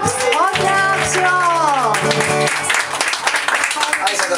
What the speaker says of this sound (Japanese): タンクトップ、大きな拍手を。